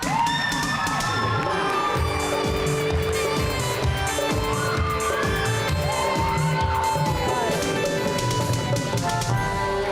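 A studio audience cheers and applauds to welcome a guest onto a talk show, with whoops, high-pitched shouts and clapping blending into a loud, continuous crowd roar.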